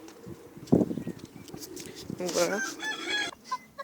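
A rooster's crowing and clucking mixed with hens' chatter, fairly close, with a voice speaking briefly near the start.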